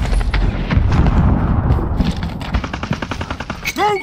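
Rapid gunfire from a shotgun in a first-person shooter video game, loud bursts of repeated shots filling the clip with a brief pause near the end.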